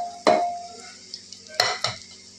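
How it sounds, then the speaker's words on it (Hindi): Tadka spices hit hot oil for matar pulav with sharp crackles and sizzles, followed by a few clinks of a spoon stirring in the pan, close and without talk. "आप देख सकते हैं बहुत अच्छे से क्रैकल भी होने लगा है"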